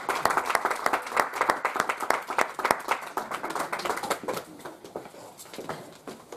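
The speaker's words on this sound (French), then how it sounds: "On acclame la parole de Dieu." Church congregation applauding, a dense burst of many hands clapping that starts strong and gradually thins and fades toward the end.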